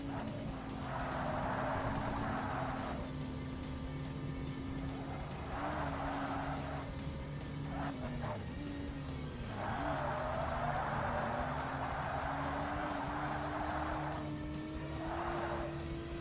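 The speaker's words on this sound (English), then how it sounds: "Why wouldn't I pick an Acura CL in a racing game?" An Acura CL coupe racing in Forza Motorsport gives a steady, continuous engine drone whose pitch rises and falls through gear changes over about sixteen seconds, with no voices.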